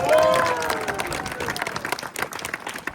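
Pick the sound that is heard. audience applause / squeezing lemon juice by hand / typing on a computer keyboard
audience applause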